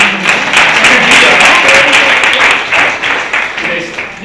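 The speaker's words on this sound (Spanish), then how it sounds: "un fuerte aplauso para mí" An audience at a talk in Alcañiz applauds loudly and close, a thick, continuous clatter of many hands with some individual claps standing out, fading slightly toward the end.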